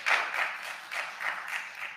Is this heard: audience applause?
yes